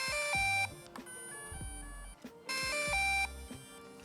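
A smartphone running the DJI Fly drone app plays its startup jingle, an electronic melody that sounds like an alarm, playing through twice with a short gap between, clear and close.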